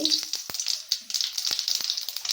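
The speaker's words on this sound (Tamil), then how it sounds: "நல்லா பொரியுது" Quiet, steady sizzling of hot oil in a pan as okra fries, with a few sharp taps and clicks from a utensil, close and soft.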